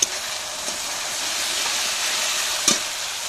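Onions and meat sizzle and fry in a pot over a wood fire, a steady broad hiss with occasional stirring clatters, including a sharper knock near the end. No voices are heard.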